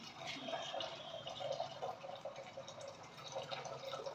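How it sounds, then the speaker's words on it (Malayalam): Water trickles and splashes steadily as it is poured into a pot of Tamil Nadu–style rasam, a faint continuous liquid pour with no voices. "ഈ വെള്ളം തന്നെ ഒഴിച്ചു കൊടുക്കാം"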